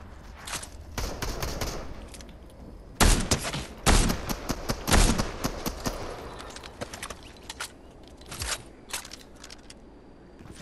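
Cobra DMR rifle firing in a video game, a run of sharp, loud shots in irregular bursts, densest in the middle, with scattered lighter clicks and game sounds between.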